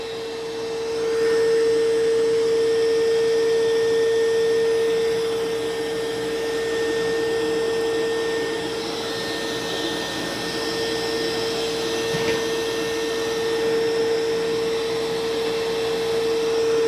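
MOVA Z60 Roller robot vacuum running with suction ramped up, a steady close whirring motor drone with a constant high-pitched tone, continuing alone with slight rises in intensity.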